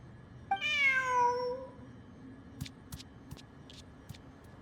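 A single drawn-out, rising-then-falling cat meow from Genshin Impact, followed by a few faint clicks and taps against a quiet background hum.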